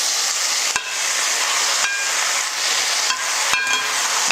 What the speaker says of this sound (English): Here I've got lamb mince.